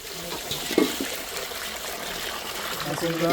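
Water splashes and trickles steadily as red mullet fish are rinsed, with people talking faintly underneath.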